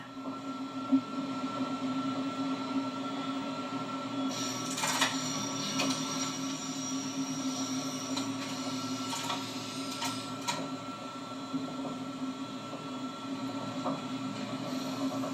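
A Belgian BB 1191 electric locomotive runs through the Brussels North–South junction tunnel, giving a steady, enclosed rumble and hum with faint rhythmic clicks and a brighter swell of metallic wheel noise partway through, with no talk.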